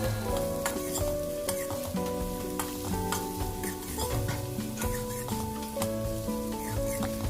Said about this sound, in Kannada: ತರಕಾರಿ ಎಲ್ಲ ಹಾಕೊಂಡ್ಮೇಲೆ ಇವಾಗ ಇದನ್ನು ನೀಟಾಗಿ 1-2 ನಿಮಿಷ ಹೈ ಫ್ಲೇಮಲ್ಲಿ ಇದನ್ನು ಫ್ರೈ